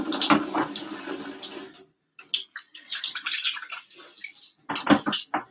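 Water runs in bursts at a kitchen sink while messy items are washed, with splashing and clatter broken by short pauses.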